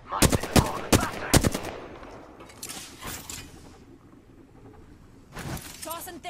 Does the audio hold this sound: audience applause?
no